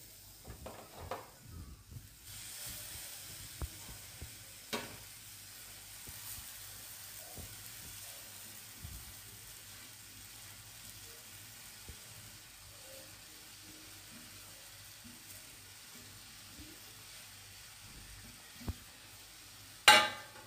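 Grated raw green mango stirred through a spiced chutney mix in a frying pan, a soft steady sizzle with faint scrapes of the spoon and a couple of sharper knocks against the pan near the start and end.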